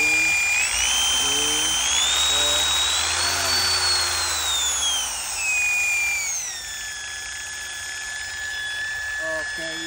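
A buffing polisher with a new speed control, rewired without a terminal or capacitor, whirs up to a high motor whine. The pitch rises and then steps down as the speed changes, with faint clicks and someone speaking briefly underneath.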